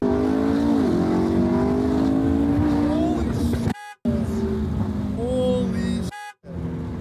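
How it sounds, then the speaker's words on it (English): A McLaren sports car with a new exhaust roars and revs loudly with a raspy exhaust note, cutting out twice with brief crackling pops. "They finally got the exhaust done and took it for a rip."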